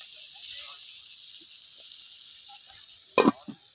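Beef or meat simmering in a pot over the fire for a village iftar meal gives a steady, faint sizzle throughout. Near the end comes a couple of loud, close metallic knocks.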